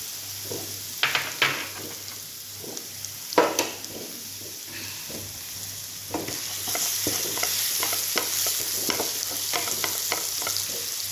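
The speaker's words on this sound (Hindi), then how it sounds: "थोड़ा भुनने दे ऐसा। हमारी मिर्ची भुन गई है।" Green chillies fry in a pan for a bhindi dish: steady sizzling with a spoon stirring and scraping the pan, a few sharp knocks early on, the frying growing louder later.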